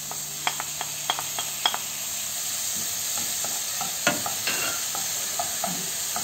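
Tomatoes sauté in a pan for a Brazilian greens-in-coconut-sauce dish, with a steady sizzle of frying and sharp clinks and scrapes of stirring scattered throughout, close and fairly loud.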